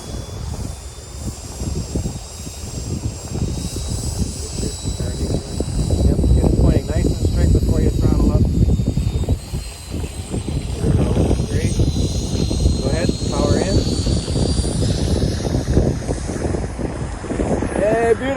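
An E-flite Habu STS RC ducted-fan jet takes off at a flying field, its thin high whine rising over heavy wind rumble on the microphone, with voices heard faintly underneath.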